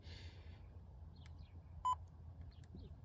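A single short, clear electronic beep sounds once against faint background noise, with a few soft chirps around it.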